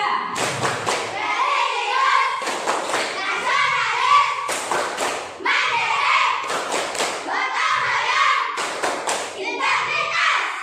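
Schoolchildren standing in a classroom perform a rhythmic clap-and-chant routine, repeated bursts of synchronized claps and thumps alternating with group chanting in a steady pattern, close and lively.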